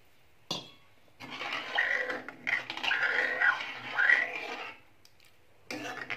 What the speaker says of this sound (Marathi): आता आपण यामध्ये पाणी टाकणार आहोत।